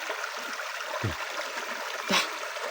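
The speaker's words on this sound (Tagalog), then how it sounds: "May tubig na maagos." Water flowing in a forest stream, a steady soft trickle and gurgle that stays faint and continuous, with a couple of brief low thumps.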